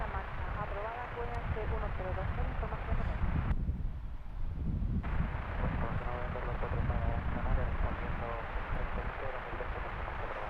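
Strong, steady wind roars across the microphone at Lanzarote Airport, a continuous dense rumble and buffeting that fills the scene, with a brief lull midway.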